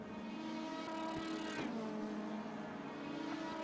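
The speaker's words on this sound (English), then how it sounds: "What is these engine sounds?" Race car engines in a DTM sim race at the Red Bull Ring drone continuously at a steady mid-level, with a brief rising rev near the middle.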